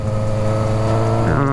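A motorcycle ridden fast along a road, its engine a loud, steady drone that climbs in pitch near the end as it revs up, with wind noise throughout.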